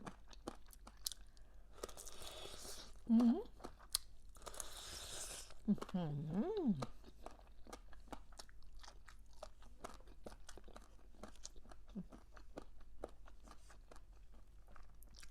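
Crisp, rapid crunching from close-up chewing of fried pig ear, continuous and rhythmic, with brief vocal sounds from a person in between.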